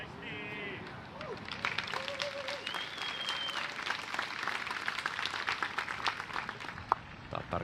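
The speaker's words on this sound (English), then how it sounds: "Tattar gets the applause." Spectators at a European disc golf festival clap for player Kristin Tattar off the tee, scattered outdoor applause building after a quiet start, with a commentator talking over it.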